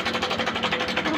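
A Honda Click 125 scooter engine with a worn timing chain runs close up, a rapid steady mechanical ticking rattle over the engine's hum, with no pause across the brief stretch.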